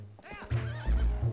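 A horse in the Wii game Zelda: Twilight Princess neighs loudly and close up, a short wavering whinny with a snort at its end.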